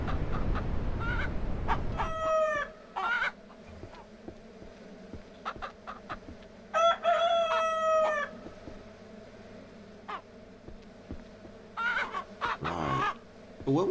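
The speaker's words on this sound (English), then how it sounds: "One thing I did forget was to put the chickens back in the coop." Ranch Simulator video game chickens on a ranch: a rooster crows twice in drawn-out calls, with scattered clucks and short bird noises in between over a quiet, faintly humming background.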